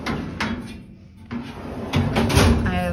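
The drawers of a three-drawer lateral filing cabinet with a lock slide open and shut several times. Each move gives a rumbling metallic glide with a few knocks, loud and close, with no talking.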